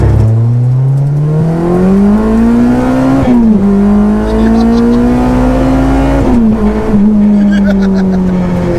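A cammed, naturally aspirated K24-swapped DC2 Type R pulls hard through the gears, its engine note climbing steadily in pitch between brief gear-change dips, loud and close from inside the car with faint talk underneath.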